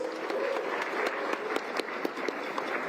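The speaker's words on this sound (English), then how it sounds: "Let's give them a big round of applause, please." An outdoor crowd at a trail running skyrace event in a mountain village applauds steadily, a dense wash of clapping with a few sharper claps standing out, heard at moderate distance.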